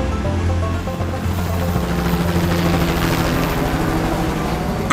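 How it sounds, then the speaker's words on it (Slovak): Rescue helicopter flying near a snowy hotel area while carrying off an injured person, a loud continuous whirring rotor drone with steady churning texture throughout, no voices. "Sem letel ten vrtuľník."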